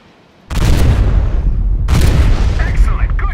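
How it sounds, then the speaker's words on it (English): Heavy gun salvos from the cruiser Portland in World of Warships crash in as two loud, booming blasts with rumbling tails, followed by a brief voice. "Let's see how many salvos it takes to shred this guy apart."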